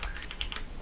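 Computer keyboard keys pressed in quick, uneven taps while a MechWarrior 4: Mercenaries game is played, clicks faint and close with no voices.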